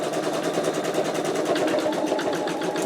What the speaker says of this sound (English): doing a really close zigzag stitch here, but not quite close enough to where it becomes a satin stitch